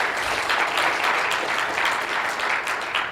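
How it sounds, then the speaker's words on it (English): An audience at a Spark Summit East tech talk applauds the speaker Wenting, loud dense clapping that fills the whole stretch without a break. "Please give Wenting here a round of applause"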